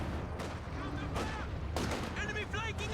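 A gun in a multiplayer strategy video game fires and wrecks a house, sounding as several heavy booming shots over game noise, with someone commentating over them.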